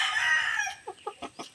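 A chicken crows in a long drawn-out call, then gives four short, evenly spaced clucks, close and fairly loud.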